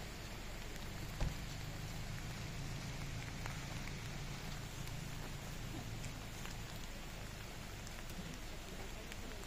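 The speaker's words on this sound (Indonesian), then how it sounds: "Karena ini hujan terus." Steady rain falls during an off-road drive to Neniari in Taniwel, Maluku, a dense, even patter filling the whole stretch with no pauses and one brief knock near the start.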